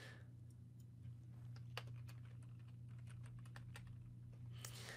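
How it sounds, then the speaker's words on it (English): A computer keyboard is typed on in a few scattered, light clicks while text goes into a fuzzy search box, faint and close over a steady low electrical hum. "just typing in this fuzzy search here"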